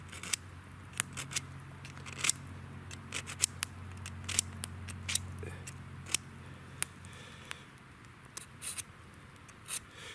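A knife is drawn through a cheap little pocket sharpener with rough and ceramic sides, giving a run of sharp, separate scraping clicks at an uneven pace over quiet outdoor background.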